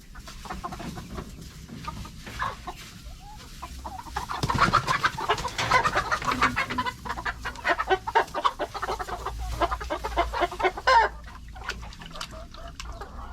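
Dekalb Brown hens cluck and squawk in a busy, rising chorus while being bathed with water, with louder clustered calls in the middle and no talk.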